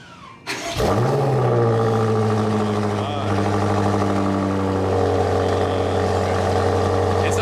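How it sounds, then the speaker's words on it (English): A 2022 BMW X6 M Competition starts remotely from its key fob. A short whir gives way to a sudden engine catch and rev, then a steady, deep, close idle that holds throughout. "you can always auto start the car with just pressing the lock button 3 times"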